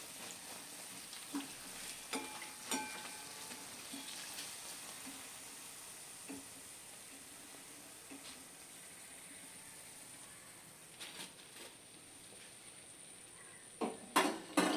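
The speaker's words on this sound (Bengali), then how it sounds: "ঠিক একই প্রসেসে আমি বাকিগুলো সব ভেজে নেব।" Beguni, battered eggplant fritters, deep-frying in hot oil: a soft, continuous bubbling sizzle with scattered stirring scrapes and utensil taps, louder clicks near the end.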